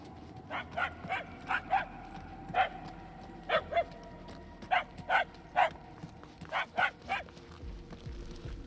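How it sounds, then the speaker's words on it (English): A dog barks in the video game Guardians of the Galaxy, giving a series of fairly faint, slightly distant barks in pairs and small clusters. The barks ring with echo over a low ambient background. "The barking is getting fainter."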